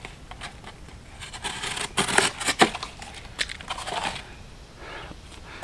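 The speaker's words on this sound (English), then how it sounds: "Just cuts right through the cardboard" A knife blade slicing cleanly through cardboard without tearing it, giving a close, dry scraping and crunching sound in several short strokes over about five seconds.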